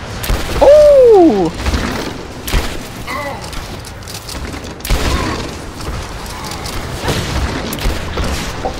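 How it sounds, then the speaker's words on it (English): A ballista in the video game Rise of the Tomb Raider fires a single loud booming shot with a sharp whooshing sweep, followed by mechanical clanks, rumbling debris and scattered lighter impacts. "Just that random ballista shot."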